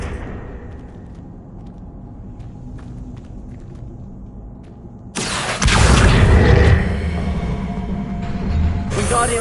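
Hogwarts Legacy video game Confringo fire spell explosion: a quiet stretch of soft game ambience gives way to a sudden loud, broad blast that rumbles and roars for several seconds before easing, with a second burst near the end; no talk.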